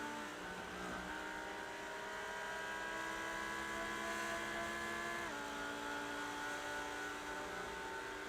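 GT3 race car engines, a Porsche and a Lamborghini, droning and shifting pitch at Daytona in a racing video game, a steady loud engine whine with a gear change midway.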